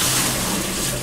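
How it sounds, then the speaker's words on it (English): Homebrew beer wort pours from a pot into a bucket, a steady, close splashing rush of liquid filling the short clip without a break. "Now I'm going to pour into bucket."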